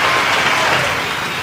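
Round of applause sound effect: a dense, steady wash of many hands clapping together, loud and close, running continuously without breaks or voices.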